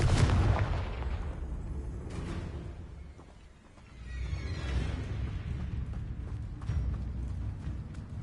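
The Confringo blasting spell in Hogwarts Legacy lands as a loud burst, then a second blast rumbles out around the two-second mark amid clattering game effects.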